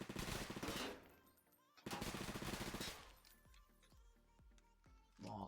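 Automatic gun firing in the older version of the Roblox game War Tycoon, two dense rapid bursts followed by a few spaced single shots with metallic clinks, fairly faint overall.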